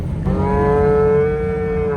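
A bull in a field lets out one loud, close, sustained moo lasting about two seconds, steady in pitch, with no talking over it.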